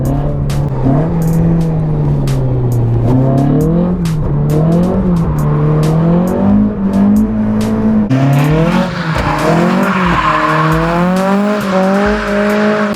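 A Toyota AE86 drifts with its engine revving hard through repeated climbs and drops while the tires squeal and skid, loud and near throughout.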